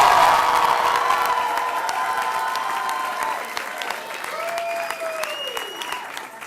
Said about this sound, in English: Let's give a big round of applause to our new Lieutenant Governor,